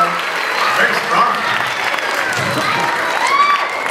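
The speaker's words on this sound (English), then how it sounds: "Let's give her a big round of applause." Applause from a children's show audience after a young performer's turn, a steady wash of clapping with some cheering and shouts, loud and sustained throughout.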